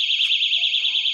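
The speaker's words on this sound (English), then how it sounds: "let's just see what it does with that alarm going off" Loud, piercing electronic alarm from a Sabre doorstop alarm set off as a door is opened over a rug, a continuous warbling shriek close by with faint handling noise underneath.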